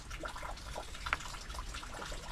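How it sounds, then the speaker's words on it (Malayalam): Rose plant roots are slowly lowered into a container of water, giving gentle close sloshing and trickling with a few small drips and splashes and no talk. "നമ്മളിത് വെള്ളത്തിലേക്ക് പതുക്കെ ഇറക്കി വെക്കാം"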